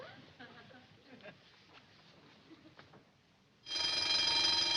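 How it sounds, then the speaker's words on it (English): A burglar alarm bell starts ringing inside a store, loud and continuous with a steady metallic clang, cutting in abruptly after a quieter stretch of faint background noise. "That's the burglar alarm."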